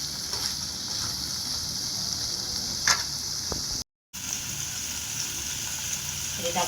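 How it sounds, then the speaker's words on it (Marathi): Paneer cubes frying in hot butter in a kadhai, a steady close sizzle that runs throughout with a few brief stirring clatters and a momentary dropout near the middle. "बघा आपलं बटर गरम झालं, थोडंसं पनीर फ्राय करून घ्यायचं"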